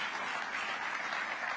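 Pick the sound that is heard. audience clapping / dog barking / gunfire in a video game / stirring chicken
audience clapping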